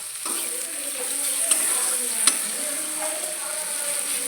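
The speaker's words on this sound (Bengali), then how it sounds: "পেঁয়াজটা আমি হালকা লাল করে ভেজে নিয়ে একটা টমেটো দিয়ে দিলাম।" Onion, garlic and tomato sizzle steadily in hot oil for a lata fish curry, a close, continuous frying hiss with a few sharper crackles and spatters, and no voices.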